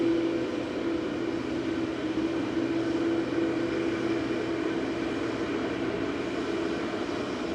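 Qatar Airways Boeing 787-9 Dreamliner, a four-year-old jet on flight 22 to Doha at Manchester Airport, produces a steady engine roar with a sustained hum, continuous and fairly distant, without voices.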